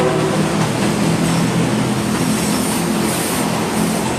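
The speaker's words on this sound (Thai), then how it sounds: "บรรยากาศรถสวนนั่นรถไฟสวนกัน" Two trains pass each other in Bangkok, a loud, continuous, close rumbling roar that holds steady for the whole stretch with no talk over it.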